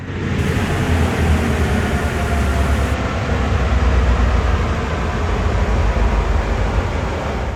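Dense, continuous rumble of a train running along the track in Train Sim World's NEC New York route on Xbox One, loud and constant throughout with no talking.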